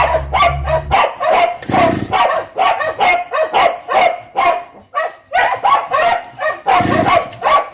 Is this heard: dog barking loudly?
yes